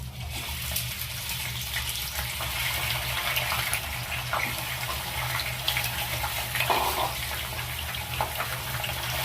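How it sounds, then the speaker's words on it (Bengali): Chicken pieces frying in hot oil with a bay leaf for chicken korma, a dense, steady hiss and bubbling that holds throughout at moderate loudness. "তেল গরম হয়ে গেছে। এবার আমি চিকেনটা দিয়ে দিলাম।"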